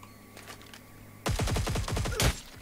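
Gunfire in the Cyber Hunter game erupts suddenly after a quiet stretch, with rapid, close automatic bursts that carry on for over a second before ending in a final loud crack.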